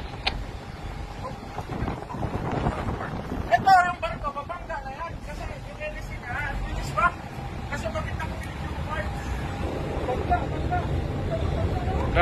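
Strong wind buffets the microphone at a port in Busan for about twelve seconds, a loud continuous roar with people talking and exclaiming over it.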